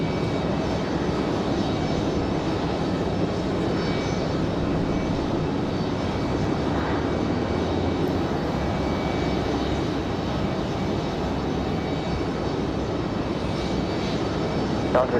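A Frontier Airlines jet in the Oriole livery at Raleigh-Durham gives off a continuous engine roar, loud and even for the whole stretch with no clear peaks, and no speech over it.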